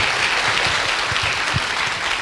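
A church congregation at a Wednesday evening worship meeting applauds in a steady, continuous round of clapping, close and fairly loud, with no voices over it.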